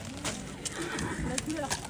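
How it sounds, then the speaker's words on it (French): A Poitevin horse at a horse-market presentation in Toucy neighs and shifts its hooves amid steady crowd noise and nearby voices. "Un cheval Poitevin."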